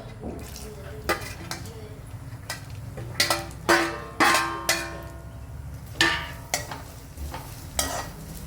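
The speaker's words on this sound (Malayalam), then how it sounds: "നെയ്യിനോട്ട് വറുത്ത് കോരിയെടുക്കാം." Coconut pieces sizzle steadily as they fry in ghee in a pan while a metal spoon stirs and scrapes, giving repeated sharp clinks against the pan.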